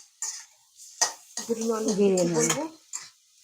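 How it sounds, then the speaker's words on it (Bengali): Food lightly sautéed in a pan, heard as brief scraping and stirring strokes, with a voice speaking over the middle. "এটাকে হালকা করে সতে করে দেবো"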